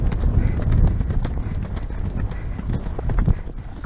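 Horse hooves clip-clop on the ground during a farmers' bloodhound hunt at Chadlington, a steady stream of close, loud hoofbeats over a low rumble.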